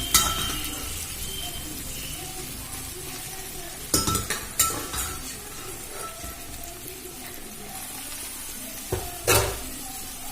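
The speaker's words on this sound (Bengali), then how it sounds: "ডালটা দিয়ে দিয়েছি। এবার ভালো করে নাড়াচাড়া করে নেব।" Boiled chana dal is tipped into a pan and stirred, giving a steady low sizzle and scraping with a few sharp utensil clinks against the pan.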